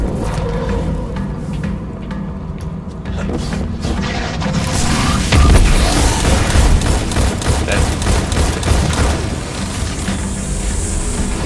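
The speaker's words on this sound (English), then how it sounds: "He's just shooting us." Rapid gunfire rattles in the Destiny 2 video game, with repeated sharp shots, crashing impacts and heavy booms building louder partway through, all dense and close.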